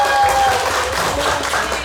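Audience applause at an indoor gathering rises as a dense, even wash of clapping, fairly loud and continuous across the short stretch, with a murmur of voices beneath.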